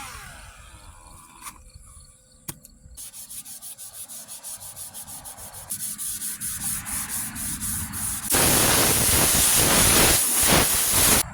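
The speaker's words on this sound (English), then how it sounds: "So we'll sand it down." Body filler being sanded on rusty car sheet metal in a home rust repair: rhythmic back-and-forth rubbing strokes that build in pace and loudness, ending in steady, vigorous continuous sanding, with no speech.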